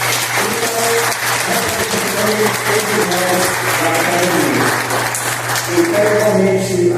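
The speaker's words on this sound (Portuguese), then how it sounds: "para que eu peço uma salva de palmas" Steady, dense applause from an audience fills the space, a continuous loud wash of clapping with a faint low hum underneath and no speech over it.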